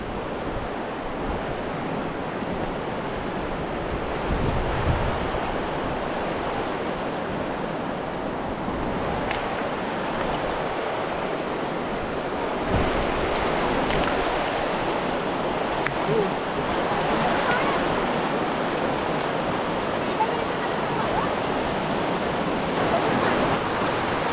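A dangerous river in monsoon flow near the Subhedar waterfall at Uchale, Murbad, rushes as a loud, continuous broadband roar with wind buffeting the microphone throughout.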